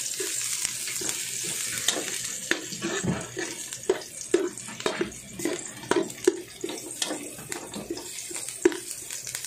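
Ginger sizzling in a hot pan while cooking lomi, with a steady frying hiss and repeated scraping stir strokes close up, no talking.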